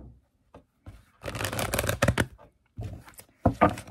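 A deck of oracle cards being shuffled by hand, with bursts of riffling and sliding card noise in several short rounds separated by brief pauses, close and clear.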